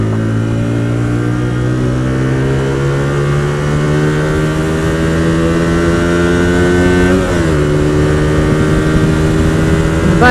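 A Hyosung GT125R motorcycle is ridden uphill, its engine droning loud and close with pitch rising steadily under acceleration, then dipping briefly before climbing again.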